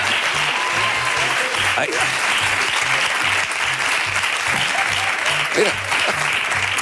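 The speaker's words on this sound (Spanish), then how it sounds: "Un aplauso, es increíble." A studio audience at a television entertainment show applauds loudly and steadily, with a rhythmic beat of music underneath and brief talk from a presenter over the clapping.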